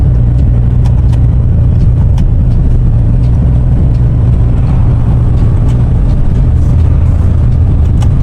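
Truck pulling a trailer on a highway between Buraidah and Al Majma'ah, heard from the cab after shifting into fifth gear: a loud, steady low engine drone with road rumble, continuous and unbroken.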